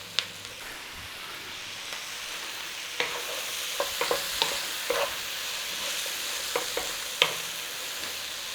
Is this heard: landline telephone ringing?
no